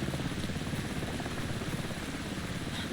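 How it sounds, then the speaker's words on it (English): Helicopter in the Alan Wake II video game, a steady loud rotor chop and engine drone holding constant for a few seconds. "We can hear the helicopter."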